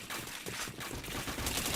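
Rapid video-game gunfire, dense overlapping shots and bursts that run without a break at steady loudness, with no voices.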